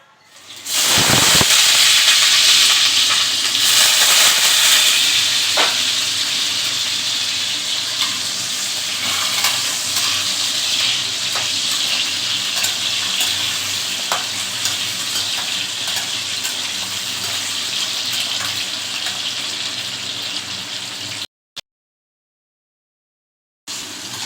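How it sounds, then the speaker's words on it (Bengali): Potatoes fry in hot oil for cauliflower potato curry with a loud, continuous sizzle and crackle up close, broken by a brief drop to silence near the end. "আলুগুলো ভাজা হয়ে গেছে"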